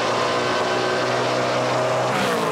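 NASCAR Pinty's Series stock car engines racing at the Grand Prix of Toronto street circuit, a steady loud engine drone with rising and shifting harmonic tones as the cars accelerate.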